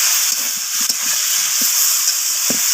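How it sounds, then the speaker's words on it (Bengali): Ginger paste and spices frying in a pan, a loud continuous sizzle with a few soft stirring scrapes. "আর দিয়ে দিলাম হাফ চামচের মতো আদা বাটা। সমস্ত কিছু এইভাবে কষিয়ে নিচ্ছি।"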